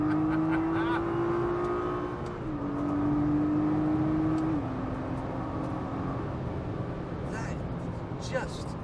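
A car launches hard with the engine revving high and rising through gear changes, loud and steady inside the cabin, with a voice talking over it.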